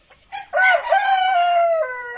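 A rooster of an American breed at a Brazilian poultry breeder's pens gives one loud, close, drawn-out crow with a strained, trailing end.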